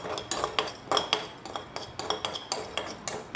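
Cardamom stirred into a metal pan with other spices for a cough remedy, a spoon scraping and clinking against the pan in a brisk regular rhythm, close and fairly loud with no voices.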